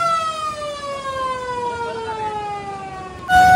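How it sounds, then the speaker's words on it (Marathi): A beach warning siren for high tide on the Alibag coast wails in a long, slowly falling tone at moderate distance, ending as a louder, different sound suddenly cuts in. "त्याच्यामुळे त्यांनी सायरन वाजवला 2-3 वेळा"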